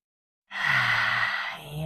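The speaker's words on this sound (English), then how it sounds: "Fullest, deepest inhale." A single deep, breathy inhale during yoga breathing practice, close and fairly soft, beginning after a short silence and drawing on for over a second before tapering.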